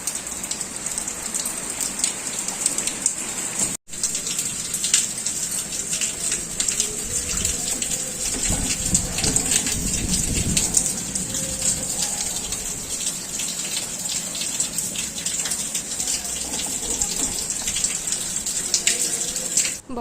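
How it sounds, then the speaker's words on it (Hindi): Heavy rain pours steadily, mixed with small hailstones, a dense continuous hiss and patter on surfaces, loud and close, with one brief dropout early on and no voices. "आज बहुत तेज़ बारिश हो रही है, और बारिश के साथ साथ पत्थर भी आ रहे हैं।"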